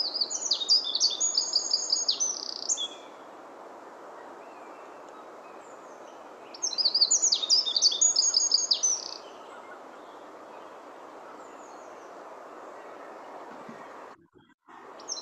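A small wren sings two loud, rapid bursts of song in a garden during the breeding season, each phrase ending in a fast trill, separated by a few seconds of quiet background hiss.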